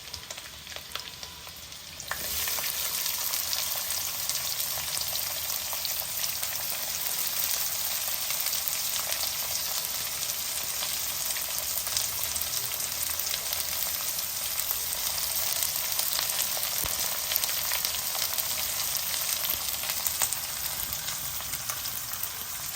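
Garlic and onions fry steadily in a hot pan while a beetroot coconut stir-fry is being made, giving a dense, continuous sizzle that swells loud after a quieter first two seconds and holds without talk.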